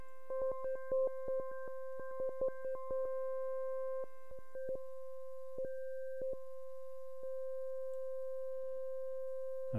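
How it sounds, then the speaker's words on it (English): A held note on a Prophet synthesizer in wavetable mode, a steady tone whose timbre shifts as it steps through waveforms, with clicking edits and brief gaps, fairly quiet and alone without voices. "if I just select A and hold down a note, we can hear the change happening as I go through these"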